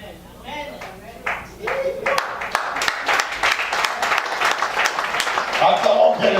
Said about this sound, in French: Acclamons bien le Seigneur.